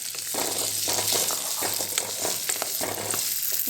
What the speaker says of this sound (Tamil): நெய்லேயே இந்த பேர் சம்பளத்தை லைட்டாக வறுத்துட்டு